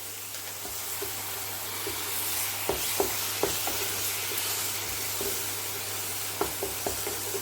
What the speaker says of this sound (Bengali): আর দিয়ে দেবো একটু সামান্য জল, নাহলে মশলাটা পুড়ে যাবে।